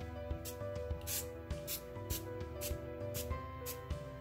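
Tea spritzed from a spray bottle onto a mixed-media concertina journal background: about eight short, sharp hissing sprays in an uneven rhythm, close and fairly quiet, with no talking.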